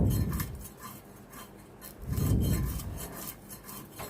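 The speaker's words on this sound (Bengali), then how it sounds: "তো আমি এখন মাছগুলো সব কেটে নেব।" A knife cuts through butter fish on a board, heads being removed, giving two rough, rasping bursts of scraping and chopping close by, the second louder, with no talk.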